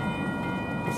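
A GO Transit commuter train, number 3760, rumbles steadily along the rails in one continuous, fairly loud pass with a low rolling drone and a bright, tonal ring on top, heard with no voices.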